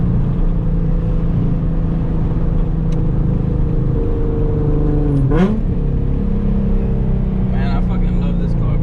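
An FBO-tuned Nissan 350Z HR running on E85 and making 325 wheel horsepower drones loudly from inside the cabin, its engine note climbing a little before a quick shift drops the pitch and it pulls again.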